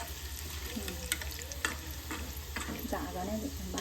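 Modak dumplings frying in hot oil during a Ganpati festival at Madh, a soft, continuous crackling sizzle with scattered pops and clinks, under quiet background noise and faint voices.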